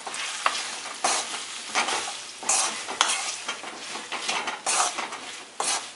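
Red chili powder, turmeric and ajwain stirred into Punjabi kadhi with onions and potatoes in a pan, repeated scraping strokes of a spoon over a constant sizzle, close and loud, with occasional clinks against the metal.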